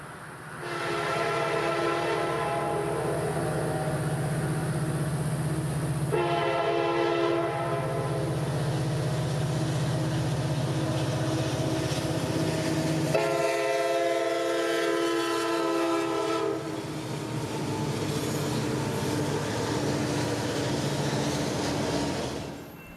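A CSX freight train rolls past on the Florida S-Line mainline near Vitus, its loud, continuous rumble filling the scene while the horn blares in several long, strong blasts.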